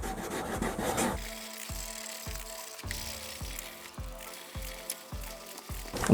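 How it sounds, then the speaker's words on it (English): Hand sanding rough body areas of a Hemi car: after a brief busy start, steady scratchy back-and-forth strokes repeat about twice a second, close up, with no talking. "You can feel as you're sanding the really rough areas"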